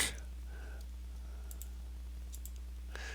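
Faint computer mouse clicks, three or four soft, separate ticks spread over a few seconds against a low, steady electrical hum.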